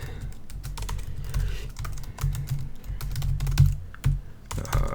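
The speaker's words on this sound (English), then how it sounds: "I keep typing S because my previous demo had an S in it." Rapid, uneven keystrokes clatter on a computer keyboard close up, with brief pauses between bursts and no talking.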